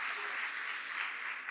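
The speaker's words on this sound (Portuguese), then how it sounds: "Aplauda Jesus." A church congregation applauding for Jesus, a steady dense wash of clapping that holds at an even level for its whole short length with no pauses.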